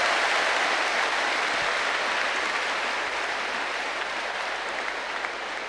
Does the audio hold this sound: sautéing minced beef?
no